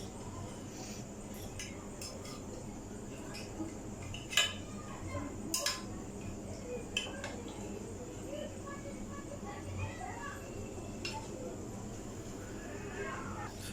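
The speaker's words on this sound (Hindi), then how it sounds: "छुरी की मदद से हम इसकी साइडें छुड़ा लेंगे" A knife works around the sides of set mango custard jelly in a dish, giving faint, scattered metallic clinks and scrapes, with a couple of sharper taps in a quiet kitchen.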